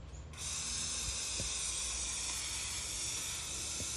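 Pressurised spray hissing steadily and loudly into a large wasp nest, a continuous close jet starting abruptly and holding for several seconds alone.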